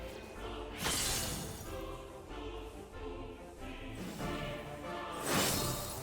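Shatter ability effect from Final Fantasy XIV, two loud glassy crashes with whooshing bursts, one early and one near the end, over continuous game music.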